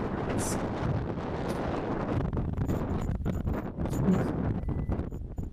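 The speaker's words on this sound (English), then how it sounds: "it's so windy it just stopped the trunk from closing" Strong wind roars and buffets the microphone in a continuous loud rush, with a few brief higher bursts.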